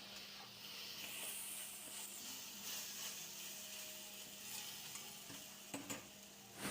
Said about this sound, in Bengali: কত সুন্দর ভাজা হয়ে গেছে